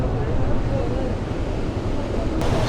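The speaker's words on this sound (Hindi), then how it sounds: "ये हम पहुंच गए कुंडल शाही वाटरफॉल पे" Steady, dense roar of rushing water at Kundal Shahi waterfall, loud and continuous, with a broad wash of noise that never lets up.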